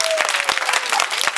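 Applause from an audience at a Gifted Compassionate School event, a steady dense wash of clapping throughout with a faint tone briefly at the start.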